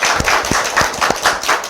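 Hand clapping on a Korean political commentary show: about half a dozen loud, close claps in a brisk, steady rhythm, with no talking.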